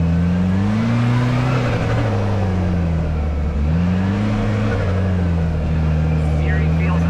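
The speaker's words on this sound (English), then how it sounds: "I wonder if you can hear that supercharger flutter." A Kawasaki Teryx5 H2 supercharged side-by-side drones loudly and continuously while driving, its engine pitch rising and falling as the throttle changes.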